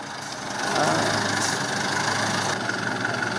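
A scooter engine runs at a steady idle during an inspection of vehicles for physically challenged riders in Kolar. The close, even hum rises after half a second and holds with little change.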